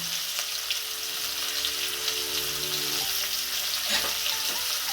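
Chili powder and ground spices fry in a pan for aloo dum, a soft steady sizzle with faint hum and a couple of stirring scrapes near the end, no one speaking.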